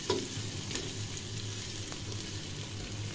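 Food sizzles and crackles steadily in a hot pan while a curry gravy cooks, with a few sharp pops and a soft stirring scrape.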